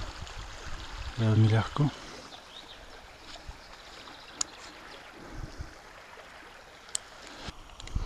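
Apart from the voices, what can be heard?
small stony brook flowing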